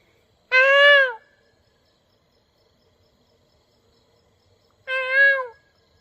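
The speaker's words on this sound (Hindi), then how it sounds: "सुबह सुबह मोर का आवाज़ है ये" Two loud, near peacock calls in the morning, each a short rising wail separated by a few seconds of quiet.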